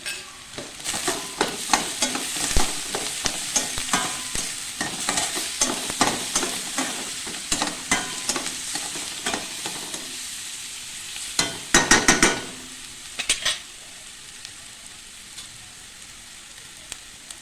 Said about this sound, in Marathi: मी लसूण आणि मिरची टाकून घेणार आहे